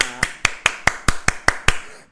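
Nine sharp, evenly spaced hand claps ring out close and loud in a steady rhythm during a Thai-language teacher exam tutoring session, each clap a crisp isolated burst with quiet gaps between.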